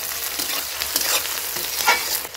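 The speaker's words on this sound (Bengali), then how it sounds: "আর কিছুটা পেঁয়াজ মাংসের সঙ্গে কষাবো।" Onion and chicken sautéing together in a kadai, giving a steady close crackle of frying with scraping stir strokes throughout, no voices.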